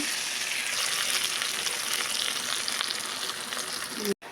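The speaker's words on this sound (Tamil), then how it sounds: "இது வந்து இப்போ கொதிக்குது, அதனால 3 வரமிளகா போட்டுக்கிறோம்" Hot oil sizzling and crackling steadily with dried red chilies, a dense bright hiss that continues throughout, with a brief break near the end.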